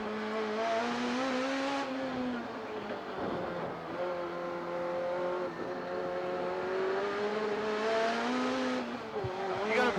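A 1988 touring car at Calder Park revs hard in low gear, its engine pitch climbing, dropping and climbing again through repeated sweeps, loud and continuous from onboard.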